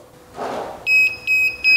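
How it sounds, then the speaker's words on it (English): A battery monitor beeper sounds a low-voltage warning on an EV West electric vehicle setup, three loud, steady electronic beeps in even rhythm after a short breathy rustle. "calibration pot down until I get the beeper to give me a warning beep"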